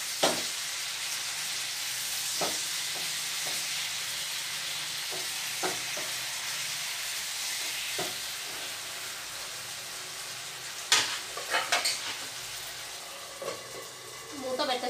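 Frying food in a pan being turned over, a continuous loud sizzle broken by several clattering scrapes and knocks of the utensil, with a burst of handling noise toward the end.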